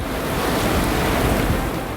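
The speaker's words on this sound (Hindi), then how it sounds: "अरब सागर में उठी ऊंची ऊंची लहरें इंसान के मन में दहशत भरने के लिए काफी थी" High Arabian Sea waves whip up by Cyclone Biparjoy off the Gujarat coast, with strong wind, form a loud, constant roar of surf and gusting air buffeting the microphone, with no voices present.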